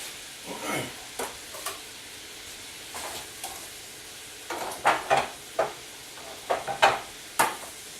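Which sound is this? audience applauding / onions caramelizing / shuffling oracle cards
onions caramelizing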